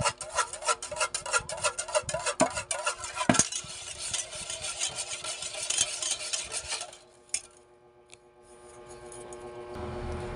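Jelly mixture with egg beaten briskly in a container, a fast continuous rhythmic whisking and scraping, close and steady, that stops abruptly near the end, leaving quieter background.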